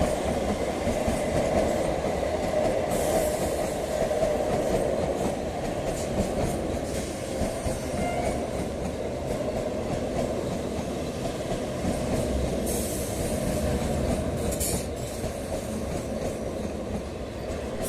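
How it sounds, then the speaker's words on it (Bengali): The 63176 Down Lalgola–Sealdah MEMU train pulls into platform 2 at Kanchrapara railway station. Its steady, close rumble carries a clickety-clack of wheels throughout, and no voices are heard. "63176 down Lalgola Sealdah memo Kanchrapara rail station 2 নম্বর প্ল্যাটফর্মে প্রবেশ করলো।"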